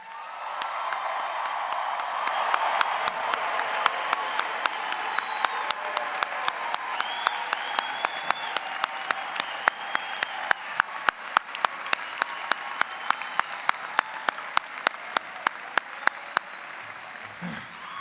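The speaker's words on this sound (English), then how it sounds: "This is the applause line." An audience at a university commencement applauds for a long stretch, a dense wash of many hands clapping, with scattered louder sharp claps standing out near the front before it fades.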